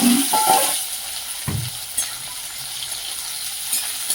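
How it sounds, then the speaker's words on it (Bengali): Chopped onions fry in a pan with a steady high sizzle, broken by a few clinks and scrapes of stirring close by, and no one speaks. "পেঁয়াজগুলো ভালো করে ভেজে নেব।"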